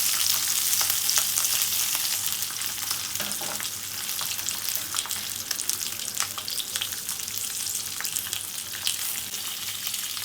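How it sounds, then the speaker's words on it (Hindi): Green chilies fry in oil in a frying pan, giving a steady bright sizzle and crackle throughout, close and continuous with no talking. "ये फ्राई होती जा रही है।"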